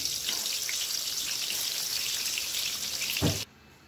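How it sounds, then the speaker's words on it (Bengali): Potatoes frying in hot oil for a Bengali mutton kosha, a steady dense crackling sizzle that holds evenly for over three seconds, then cuts off abruptly into near silence. "চলুন টিনা এখন আলুটা ভেজে নিচ্ছে।"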